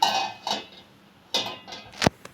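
A flat pan set down on a lit stove for a Telugu gongura tempering dish: a few close, sharp metallic clanks and scrapes spread over two seconds, the last one the loudest, with no talking.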